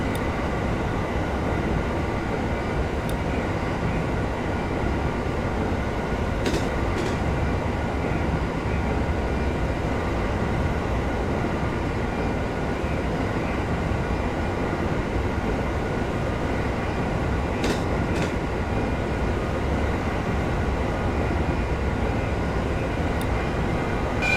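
Electric 701 Series commuter train running steadily on a main line in a Tohoku railway simulator game, a continuous rolling rumble with no clear horn blast standing out.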